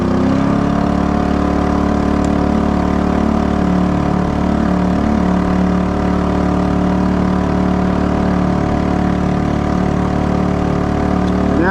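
A 2.3 hp Honda gas outboard motor on a Flycraft boat running at about half throttle, a loud, steady, close buzzing drone with an even tone, no voices.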